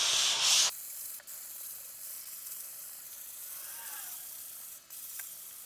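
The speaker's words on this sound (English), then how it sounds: "I'm going to lightly sand down this countertop" Soft, steady scratchy rubbing of sandpaper lightly sanding a wooden butcher block countertop, quiet and close, after a brief louder rustle at the start.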